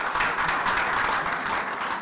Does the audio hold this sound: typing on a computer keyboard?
no